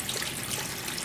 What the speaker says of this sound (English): We can turn the faucet on.